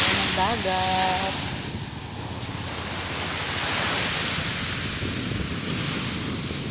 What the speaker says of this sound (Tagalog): Ayan ang dagat.